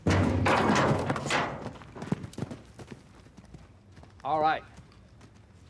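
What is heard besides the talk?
wild horse hooves running in a pen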